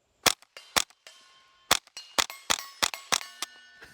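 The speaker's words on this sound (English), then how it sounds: "see if I can hit that 4-inch plate with the tracer" A Ruger 10/22 in a High Tower Armory MBS 22 bullpup chassis fires .22 tracer rounds at a 4-inch steel plate: about a dozen sharp, close cracks in quick, uneven succession, several followed by a faint ringing metallic tone.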